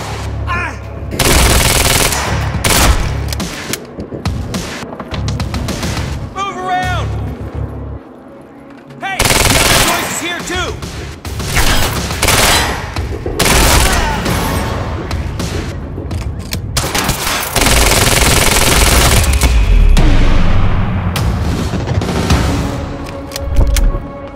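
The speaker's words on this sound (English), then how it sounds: "You heard the gunfire." Heavy gunfire in the video game Quantum Break bursts rapid and loud, with long automatic volleys and booming shots, broken by brief pauses and a few distant voices.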